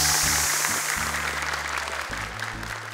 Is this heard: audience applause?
yes